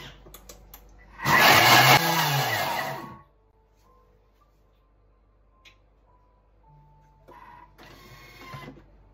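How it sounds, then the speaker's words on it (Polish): A short burst of loud whirring as a Thermomix blends spinach roars for about two seconds, then stops; quieter beeps and clicks follow, with a brief mechanical buzz near the end. "na obrotach 10 będziemy przez chwilkę miksować e, szpinak na gładki, dobrze rozdrobniony"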